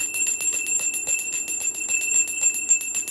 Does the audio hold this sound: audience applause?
no